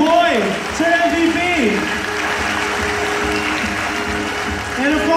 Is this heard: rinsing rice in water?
no